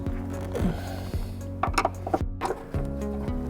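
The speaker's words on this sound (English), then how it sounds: "we've got a couple of screws to undo" Screws being undone on a car roof with a powered driver, whose whirring motor tone starts and stops in several short bursts, close and clear, with small metallic clicks and handling knocks between.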